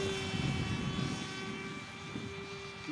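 A ReadyMadeRC Mini Skyhunter RC airplane flies with a faint, steady electric motor whine, a continuous thin buzzing tone over soft outdoor wind noise.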